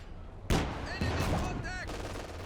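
A mortar barrage in Company of Heroes 2 lands as several sharp explosive blasts about half a second apart, with whistling tones between impacts and commentary faintly underneath.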